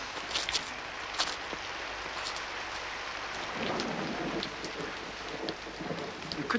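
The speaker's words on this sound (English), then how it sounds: "You said it wouldn't rain." Heavy rain pours down continuously with dense pattering and a low rumble beneath it, and a few sharper drip-like hits stand out. No one speaks.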